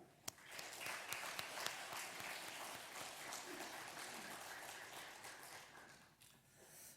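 A church congregation applauds the choir and worship team during a Sunday service, a dense, sustained wash of clapping that fills the room at moderate distance before tapering off near the end.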